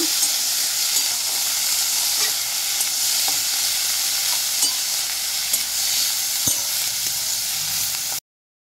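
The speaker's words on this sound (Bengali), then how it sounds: "পেঁয়াজ কুচি একটু বেশি পরিমাণে দিয়েছি, গ্রেভিটা বেশ ঘন হবে। তো বাদামি করে ভেজে নেব।" Plenty of chopped onion frying until brown for a prawn malai curry, a continuous close hiss and sizzle with scattered stirring taps and scrapes, no talking.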